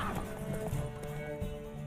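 Horse galloping in a race in The Witcher 3, a steady rapid clip-clop of hooves over game music and ambience, with a brief whinny-like accent, continuous at moderate level throughout.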